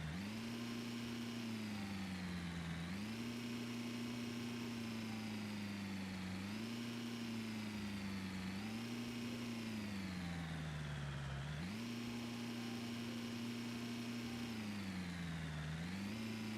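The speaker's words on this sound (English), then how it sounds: "The engine doesn't sound too good." Snow plow truck engine in Snow Plowing Simulator, a thin, small-sounding motor droning steadily with repeated rises and falls in revs, loud and close throughout with no talking.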